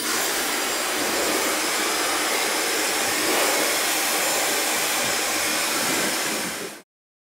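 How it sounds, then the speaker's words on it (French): A hair dryer blasts continuously at close range while a lock of hair is worked with a medium brush, giving a loud, steady rushing whir that cuts off abruptly near the end, with no talking. "Je vais travailler ma mèche avec le séchoir"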